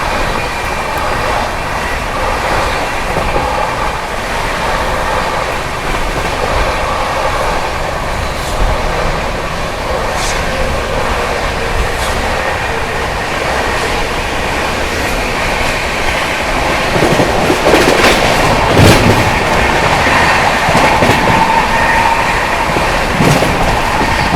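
The Delhi–Kamakhya Brahmaputra Mail express races through Bharthana station without stopping, a loud steady rumble of wheels and coaches with clicks and a surge near the end, heard from aboard another train.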